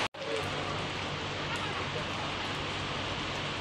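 Heavy rain pours at Saputara hill station in Gujarat, a dense, steady hiss of water falling on surfaces that fills the whole scene without letup after a brief click at the start.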